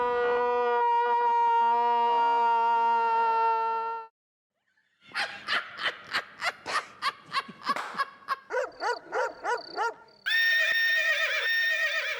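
An Arabian horse neighs in a comedy sketch, heard as a sustained whinny followed by a burst of rapid, shaking pulses and a final high, loud call, with no talk over it.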